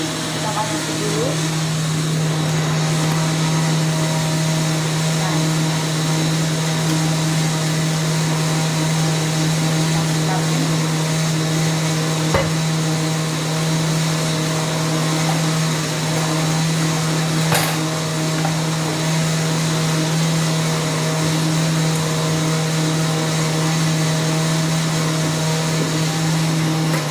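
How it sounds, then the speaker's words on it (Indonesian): A blender runs continuously, grinding chilies for a spicy sauce, with a loud, steady motor whine and whir that holds at an even level throughout. "Sambil nunggu blenderan kita halus"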